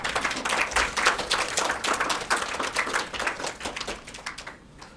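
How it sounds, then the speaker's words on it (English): A round of applause at an award ceremony, many hands clapping briskly and evenly for several seconds before the sound thins out and fades away at the close. "let's give her a big round of applause"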